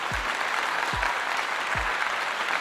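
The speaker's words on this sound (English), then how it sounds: "I'm going to give you a clap." Three slow, deliberate hand claps, evenly spaced about a second apart, each a dull low thump close to a microphone over a faint background hiss.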